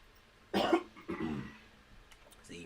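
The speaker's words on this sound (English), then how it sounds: "even heard the coughing. I tried to muffle it." A few muffled coughs from one person, a louder burst followed by a softer one, then quieter throat noise, close to the mic with no talking.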